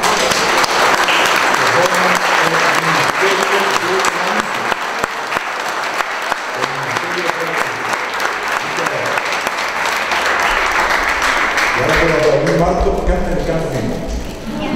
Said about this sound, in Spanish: Yo quiero pedir que hagamos un aplauso a estos niños.